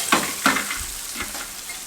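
Chicken pieces frying in hot oil for a crispy fried chicken dish, giving a steady close sizzle with a few louder bursts of spattering, with no talk.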